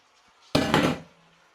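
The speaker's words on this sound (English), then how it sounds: "So there's 1 kilo of lamb going in there." One kilo of raw lamb drops into a pot of frying onions for aloo gosht, landing with a sudden loud thud that becomes a burst of sizzling and fades within about half a second.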